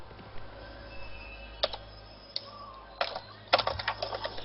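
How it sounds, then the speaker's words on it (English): A horse whinnies in the online game Dark Age of Camelot, a short, fairly quiet cry set among scattered keyboard clicks and mouse taps, with louder rapid key clatter building near the end. "Pay no attention to my horse."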